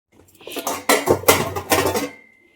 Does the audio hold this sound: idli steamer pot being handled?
yes